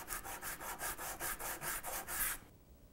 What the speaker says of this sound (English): So I'm filing a little bit more heavily on the left side.